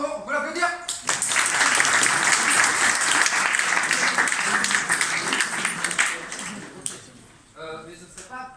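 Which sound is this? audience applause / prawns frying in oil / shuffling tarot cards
audience applause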